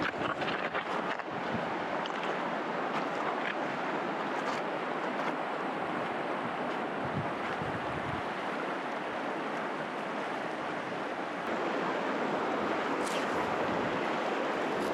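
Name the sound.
wind blowing outdoors by a backcountry river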